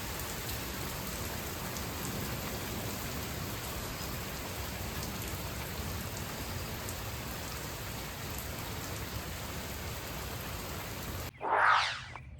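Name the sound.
heavy rain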